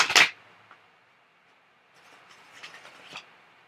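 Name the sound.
shuffling a tarot card deck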